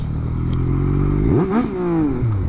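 A Yamaha MT-09 motorcycle of about 115 horsepower, ridden with its baffle removed, revs hard and accelerates, its rising engine note sweeping upward and then shifting down before climbing again, loud and close with no talk.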